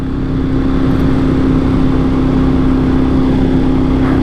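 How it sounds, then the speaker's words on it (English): Steady, loud engine drone of a Moto Guzzi Italian motorcycle being ridden, a constant mid-pitched hum with wind rush and no breaks. "This bike I'm on right now is a Moto Guzzi."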